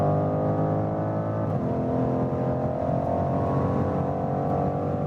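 A 2019 BMW M550i in sport mode accelerates with a steady, droning engine and exhaust note heard from inside the car; the pitch dips briefly, then holds and slowly climbs.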